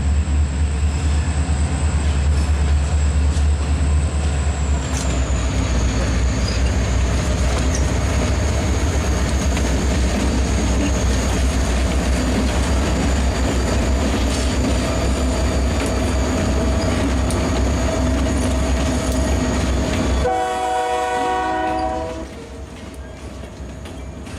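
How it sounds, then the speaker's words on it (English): A Louisiana Southern freight train rumbles past at close range with heavy low grinding and wheel noise and a thin sustained squeal, then the rumble thins and a harmonic horn-like tone sounds near the end. "Louisiana Southern crosses the road and moves toward the location of the rolling stock left by KCS"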